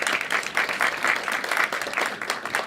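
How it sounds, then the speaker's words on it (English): A round of applause for the sponsor CityMD fills a small startup founder roundtable event, a moderate, steady patter of hands with slight surges. "A round of applause for CityMD."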